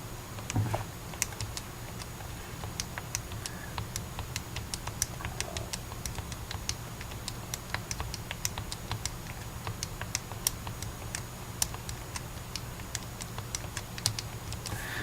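Rapid, steady tapping of small calculator keys while entering data, continuous and close, with light clicks and no talking.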